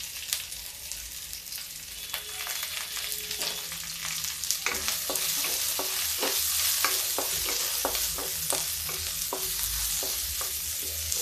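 Onion and garlic, with pieces of ginger, sizzle in a hot pan while being stirred, a steady close frying hiss broken by a run of regular scraping strokes in the second half, with no talking.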